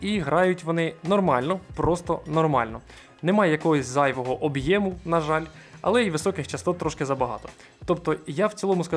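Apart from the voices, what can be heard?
No everyday noise stands out behind the speech.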